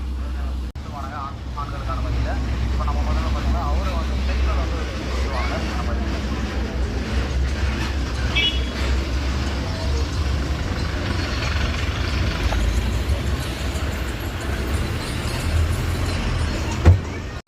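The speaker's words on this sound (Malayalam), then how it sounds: "ഒരുപാട് വണ്ടികൾ വന്നു പോകുന്നുണ്ട് കേട്ടോ." Vehicles, including buses, pass steadily along a highway in Andhra Pradesh, making a continuous low engine drone. A voice speaks briefly near the start above the traffic noise.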